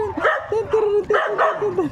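Several dogs bark and yip in short repeated bursts, close and fairly loud, with a whimpering tone between barks, heard at a rural home where pigs are also kept.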